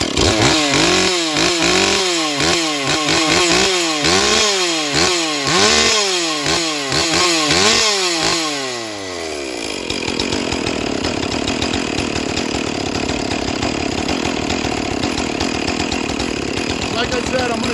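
A ported Stihl-style 461 chainsaw engine runs loud and close right after its first start, with sharp revving bursts giving way to a steady high-pitched full-throttle scream.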